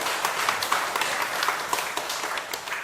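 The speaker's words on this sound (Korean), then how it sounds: "박수 부탁드립니다." An audience claps together after a question at a Buddhist dharma talk, a dense, even wash of handclaps from a crowd filling the hall at steady loudness throughout.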